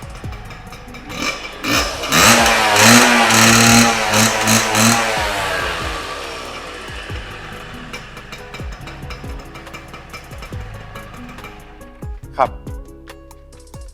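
A Kawasaki GTO two-stroke motorcycle with its original engine, for sale, revs loudly and close up for several seconds, then settles into a rough idle with popping blips. Voices talk over parts of it.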